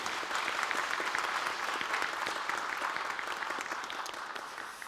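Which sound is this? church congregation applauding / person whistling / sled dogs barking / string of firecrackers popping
church congregation applauding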